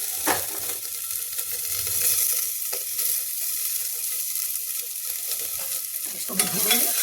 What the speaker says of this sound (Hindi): इसको भी भूनेंगे, थोड़ा सा भून लेंगे